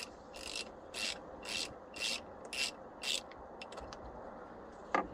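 A ratchet loosening the 10mm negative battery terminal nut on a 2005-2019 Nissan Frontier with a VQ40DE engine, giving six evenly spaced rasping clicks followed by a few quicker, lighter clicks.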